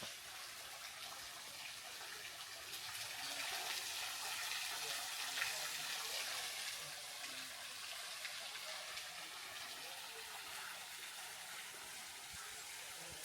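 Underground water flows through Mammoth Cave in a soft, continuous hissing rush, steady and faint with a gentle swell midway, with no voices.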